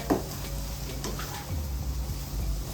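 Curry ingredients with a sprig of curry leaves and colocasia being stirred together in a pan, a soft steady sizzle with faint scraping under it.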